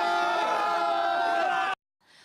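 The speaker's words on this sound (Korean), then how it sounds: "성인 팔뚝만한 송어를 잡아올리자 관광객들이 환호성을 지르며 축하해줍니다." Tourists at the Pyeongchang winter trout-catching festival cheer and whoop together around an outdoor pool as a large trout is pulled from the water, a loud crowd roar that cuts off abruptly.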